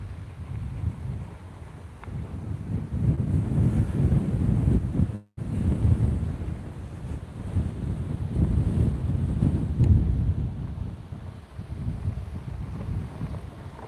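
Strong wind buffets the microphone beside open water, a loud continuous roar with gusty swells and a brief drop near the middle, no voices.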